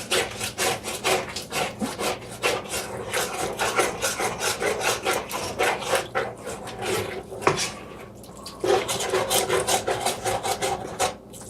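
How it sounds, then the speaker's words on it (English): A utensil scrapes and stirs milk into sausage gravy, rasping steadily against the pan bottom in quick rhythmic strokes, close and loud, with no talking. "I like to put about a third in, then stir it up. Try to scrape the stuff off the bottom."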